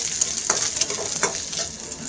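Chopped garlic frying and stirred in a pan while cooking a cauliflower-stalk chadchadi, a steady bright sizzle with a few scraping stir strokes rising above it, close and alone.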